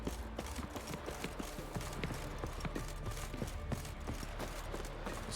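Hooves of Roach, Geralt's horse in The Witcher 3, clip-clopping in a steady repeated rhythm over game ambience and music, moderately close and fairly quiet.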